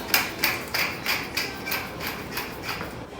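A hand pepper grinder cracks peppercorns in a kitchen, giving a close series of regular ratcheting, crunching twists, about three per second, with no talk.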